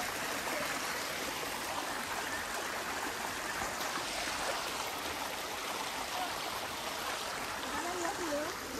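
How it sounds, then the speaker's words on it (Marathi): A river stream flows in a steady, soft rush of water, fairly faint and continuous, with faint voices at times in the background. "मित्रांनो एक असा नदी आहे बघा"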